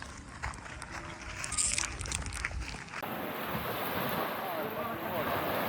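Waves and gusting wind on the Sea of Galilee (Lake Tiberias), a steady broadband wash of rolling water with wind buffeting the microphone, rougher in the first half and then a constant close roar.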